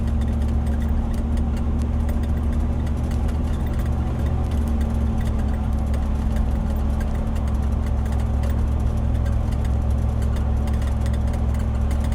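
A Land Rover Defender 90 50th Anniversary drives along at about 30 miles an hour behind a truck, its engine droning steadily and loudly with constant low rumble and road noise throughout.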